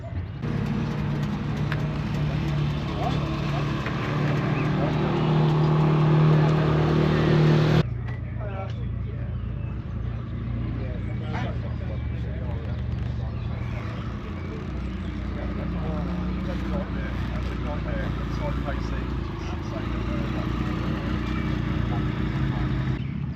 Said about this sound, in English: just watching the bikes roll in now